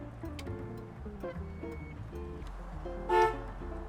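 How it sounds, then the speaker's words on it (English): The horn of a 1964 Chevrolet Bel Air sounds as a single short, bright honk near the end, rising clearly over background music that plays throughout. "Horn works."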